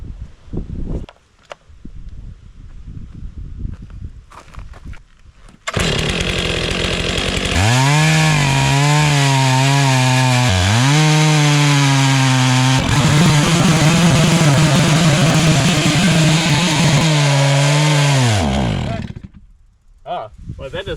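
A Stihl 661 chainsaw slabbing wood into planks roars loudly and close for about thirteen seconds, its pitch wavering as it bogs and recovers in the cut. Quieter voices and handling sounds come before it, and it cuts off sharply at the end.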